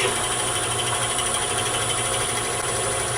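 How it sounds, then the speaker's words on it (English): Steady, continuous whir of a drill spinning up to drilling speed while boring into a stabilized burlwood pin blank, close and even throughout with no talk. "I can bring it up to a nice drilling speed."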